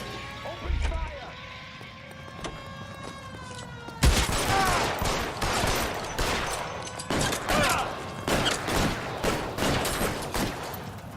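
A shootout in the video game L.A. Noire breaks out in a sudden, dense fusillade of gunshots with rapid repeated cracks and bursts over continuous game sound and a tonal music or siren-like drone. A voice speaks briefly at the start.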